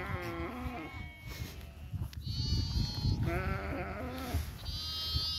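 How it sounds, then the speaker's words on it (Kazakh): A lamb and other sheep and goats on a farm bleat repeatedly, several wavering, overlapping cries of different pitches heard fairly close over low background noise from the flock. "Мұнда менің бір қозым жүр екен."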